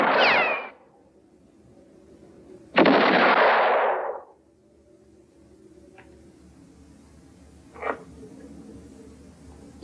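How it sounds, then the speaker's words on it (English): Rifle gunshots in a western film: a sharp blast at the start, a second longer roaring shot a few seconds later, then a faint click and a small distant crack, with no talk. "Say, Tim, how many shots do you have left in your rifle"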